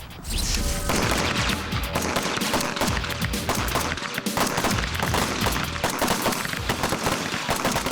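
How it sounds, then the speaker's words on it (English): Gunfire rings out at a shooting range as a shooter fires double taps at targets, dense rapid loud cracks in pairs and bursts, close and continuous over several seconds. "You're going to be firing double taps. That's 2 rounds, okay, followed by another 2 rounds, so on and so on, until I tell you to stop."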